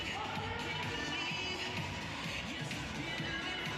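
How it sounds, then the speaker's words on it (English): A dense, steady roar of crowd applause and cheering fills a basketball arena as Geelong faithful react during a WNBL women's game against the Sydney Flames, loud and continuous throughout. "Big round of applause from the Geelong faithful."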